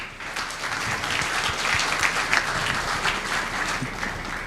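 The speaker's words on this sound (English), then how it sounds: "Applause for him." A room of hospitality students at a chef's master class in Kolkata breaks into steady applause, a moderate, even patter of many hands clapping for several seconds.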